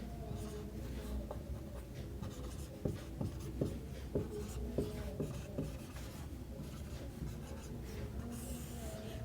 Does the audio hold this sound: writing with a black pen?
yes